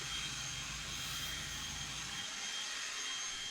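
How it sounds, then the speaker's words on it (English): A battery-operated blower clears sand and dust off patio pavers, a steady airy whoosh that holds at an even level for the whole stretch, with no talking. "this is a battery operated blower, and I really like it because it doesn't blow really hard for doing this process"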